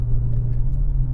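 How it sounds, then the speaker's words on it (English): A deep, steady V8 engine rumble from a Dodge Challenger R/T Scat Pack with a low exhaust note, idling or cruising evenly, close by with no talk. "You just really gotta love the sound of this motor."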